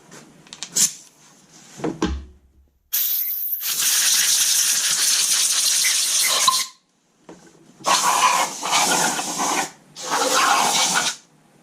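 Compressed air blasts clean parts from a 2008 Dodge Charger 3.5L engine being torn down for rebuild: several loud, hissing bursts of a few seconds each, separated by short pauses and light clinking handling noises, close by in a workshop.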